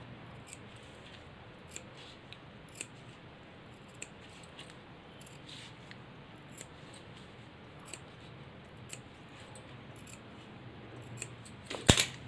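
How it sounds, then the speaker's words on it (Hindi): Scissors make small snips into sewn fabric, quiet sparse clicks spaced irregularly over a faint background, with a louder handling noise at the very end. "यहाँ पर हमें छोटे छोटे कट लगाने हैं,"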